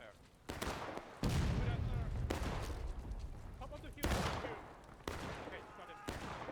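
Civil War musket volleys in the War of Rights video game: repeated sharp gunshot cracks with rolling echoes, some shots overlapping in a ragged fusillade, set against a steady battlefield din.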